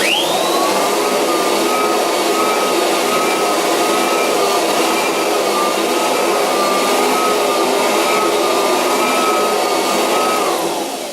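A Kirby foam cleaning machine runs steadily and loud with a constant high whine, close by and uninterrupted for the whole stretch before cutting out at the very end.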